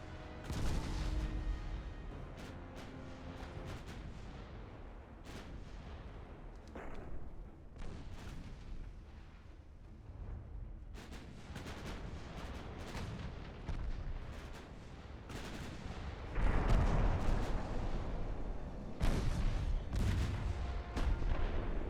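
Naval guns fire repeatedly in Ultimate Admiral Dreadnoughts, heavy booming salvos at irregular intervals over a rumbling battle backdrop, with a louder cluster of blasts near the end.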